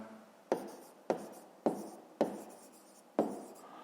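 A pen or pencil writes on paper while a fifth-grade maths exercise is solved, giving five short scratching strokes at a steady pace, close and quiet, each stroke fading before the next.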